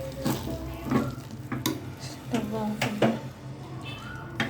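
Stirring sweet pongal, a sugar rice dish, after adding fried cashews, with soft scraping and sticky squelching from the pot under a steady sizzle, heard up close.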